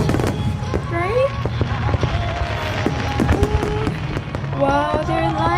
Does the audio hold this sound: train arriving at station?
no